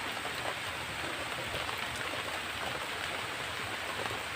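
Rain falling steadily outdoors, a constant close hiss of drops pattering on surfaces, soft and even throughout with no speech.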